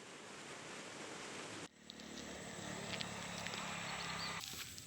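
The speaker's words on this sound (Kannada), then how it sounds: "ಇದು ನೋಡಿ ಕಡ್ಡಿರಾಂಪುರ ಸೇತುವೆ ಹತ್ರ ಇಷ್ಟು ರಭಸವಾಗಿ ನೀರು" Fast-flowing water rushes through the Turta canal near the Kaddirampura bridge at Hampi. The steady, broadband roar is fairly faint, with a brief dip near the start before the flow carries on evenly.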